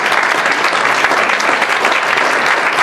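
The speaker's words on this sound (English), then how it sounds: "A quick round of applause for our panelists." An audience at a junior hockey panel event breaks into dense, steady applause for the panelists, loud and continuous with no voices over it.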